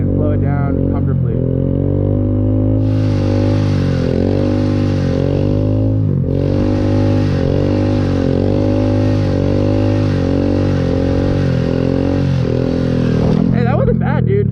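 Honda Grom motorcycle engine droning steadily while riding, its pitch sliding and falling as it slows, loud and close with wind rush over most of the stretch.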